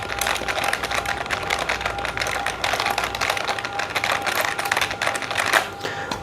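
Rapid, steady keyboard typing close by, a continuous patter of key clicks with no pauses and no talking.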